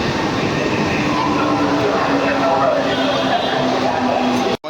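A Mumbai local train rumbles steadily at Churchgate railway station, a loud continuous roar with faint rail hum throughout, cutting off abruptly at the end.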